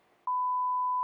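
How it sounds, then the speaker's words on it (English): A morning alarm beeps once, a loud, clean, steady electronic tone that starts abruptly after a faint hiss and holds for most of a second. "It seemed to me that I'd just fallen asleep and the alarm sounded."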